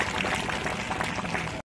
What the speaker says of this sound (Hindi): अपने अतिथियों से आग्रह करता हूं कि जोरदार तालियों से